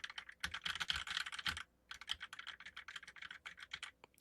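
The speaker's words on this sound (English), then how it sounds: "This is a typing test." Rapid typing on a computer keyboard recorded through a Shure MV6 USB gaming microphone, a dense run of close, crisp key clacks with a brief pause partway through, quiet overall and without speech.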